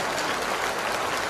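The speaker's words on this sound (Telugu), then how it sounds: "గురువు గారికి కూడా మనం చప్పట్లు కొట్టాలా వద్దా?" Crowd in Siddipet, Telangana clapping for a teacher: dense, steady applause filling the whole short stretch at an even, fairly loud level, with no talk over it.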